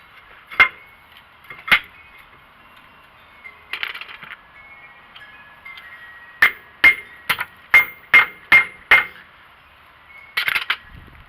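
Metallic taps of a hammer driving a 5 mm socket onto a corroded rear brake bolt on a Mercedes E430 W210, about eight to ten sharp, close clinks, a couple spaced apart and then a quick run of evenly paced strikes.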